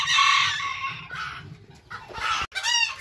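Hens cluck and squawk up close in loud, repeated bursts, with a short gap before a final rising call.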